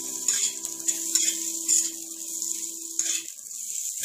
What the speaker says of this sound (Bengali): পেঁয়াজটাকে আরো কয়েক সেকেন্ড নাড়াচাড়া করে নেব।